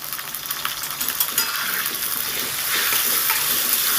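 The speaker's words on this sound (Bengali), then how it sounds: "ওই তেলেতেই দিয়ে দিচ্ছি আলুগুলো ডুমডুমো করে কাটা আলু আলুগুলোকে একটু লাল করে ভেজে নেব" Diced potatoes fry in hot oil with salt and turmeric, a loud, dense, hissing sizzle close up that grows fuller toward the end, with no talking over it.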